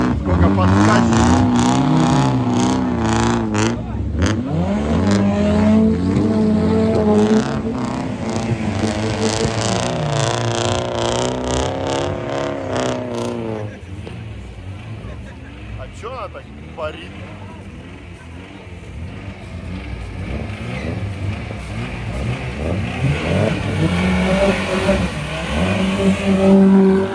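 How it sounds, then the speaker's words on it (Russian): A loud off-road rally car engine revs hard in repeated rising and falling sweeps during a Standard-class off-road race, dropping back to a quieter run midway before picking up and revving again. "Ребята, вы слышите, какой дорогой звук у Нургали на машине?"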